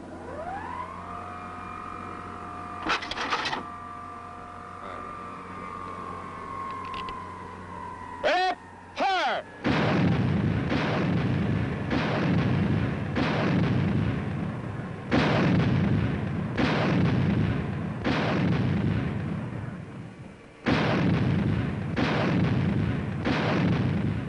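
Skysweeper anti-aircraft gun firing at Fort Bliss, Texas in the 1950s: after a rising whine and a few sharp bangs, heavy rapid firing roars in long loud bursts separated by short pauses.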